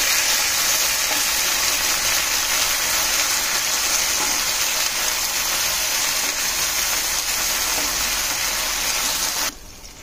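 Ingredients for gongura chicken biryani frying in a pan with green chillies, a loud, steady hiss and sizzle throughout, cutting off abruptly near the end.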